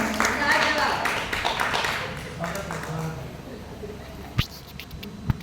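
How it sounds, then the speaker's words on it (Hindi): Audience at a Hindi poetry event clapping, a moderate round of applause that fades into sparse scattered claps, with a couple of sharp knocks near the end. "जोरदार तालियां"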